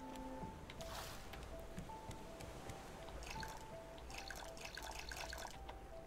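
Water trickles and drips softly while a container is filled in the survival crafting game Raft, with quiet sloshing and a faint game tone underneath.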